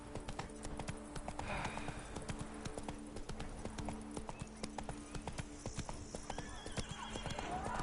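In The Witcher 3 video game, a horse clip-clops steadily with rapid hoof beats while neighing and whinnying, set against a constant background hum with faint game ambience.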